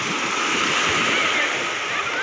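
Sea waves wash steadily around a boat out on the ocean off Gokarna, a continuous broad rushing hiss with wind buffeting the microphone, loud and unbroken throughout.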